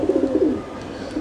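Pigeons of the choithal golakosha breed coo at a farm, a low warbling coo repeating steadily and close, fading slightly toward the end with no voices over it.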